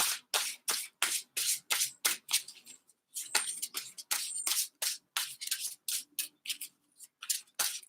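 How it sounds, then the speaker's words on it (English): A deck of oracle cards is shuffled by hand, soft papery riffles and slides coming in quick, irregular bursts with brief gaps, close and fairly quiet. "Give it a good shuffle."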